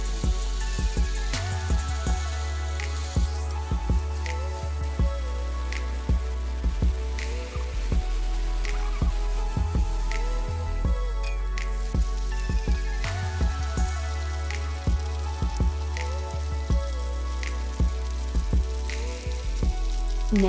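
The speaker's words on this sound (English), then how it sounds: "add the coarsely chopped chorizo sausages. Sauté until the sausage flavor develops." Coarsely chopped chorizo sausage sautéing with roasted peppers in a pan for a Spanish potato stew, giving a steady crackling sizzle with scattered sharp pops throughout, close and continuous with no talking.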